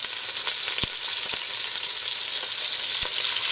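Onion and garlic sautéing in oil in a pan give a steady, close, bright sizzle that fills the whole stretch, with a few sharp knocks of a utensil against the pan mixed in.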